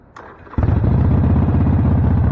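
A motorcycle engine fires up abruptly after a quiet moment and settles straight into a steady, loud, throbbing idle close by.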